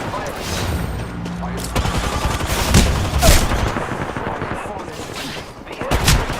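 Gunfire in a shooter video game, loud dense bursts of rapid shots with booming impacts over a continuous noisy battle backdrop, close and sustained throughout.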